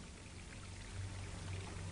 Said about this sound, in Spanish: El agua que baja por el cañón representa el flujo normal de la corriente.